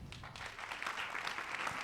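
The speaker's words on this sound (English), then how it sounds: "we give her a round of applause?" An audience claps for a woman invited up at a rhythm-and-words stage performance, steady applause from a room of people, moderately loud and continuous, with no voices over it.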